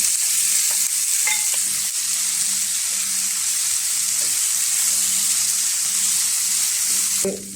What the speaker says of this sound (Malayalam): ഫ്ലെയിം സിമ്മാക്കിയിട്ട് നമ്മൾ എടുത്ത് വെച്ചിരിക്കുന്ന ചക്കക്കുരു ഉണ്ടല്ലോ അതിട്ട് കൊടുക്കും.